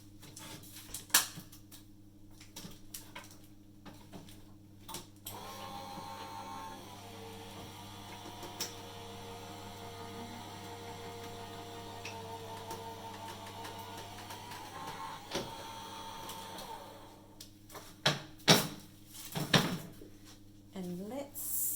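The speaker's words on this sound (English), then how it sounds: "just give me a couple of seconds while I run that through my machine" A crafting machine cranks an embossing folder through for Christmas papercraft, producing a steady mechanical hum and faint grinding for several seconds, bracketed by clicks, taps and handling clatter at the start and end, all close and fairly quiet.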